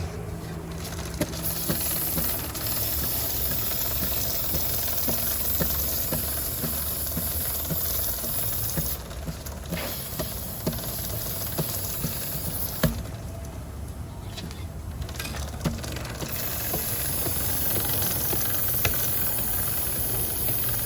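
Aerosol chain lube sprayed onto a bicycle chain, a steady close hiss of spray that runs nearly unbroken throughout with no talking.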